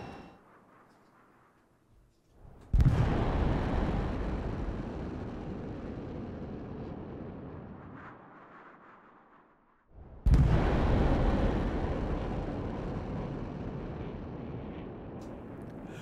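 Jet passing at Mach 1 around 20,000 feet in Microsoft Flight Simulator 2020, two sudden loud broadband roars, each bursting in abruptly and then slowly fading over several seconds, separated by a brief quieter gap.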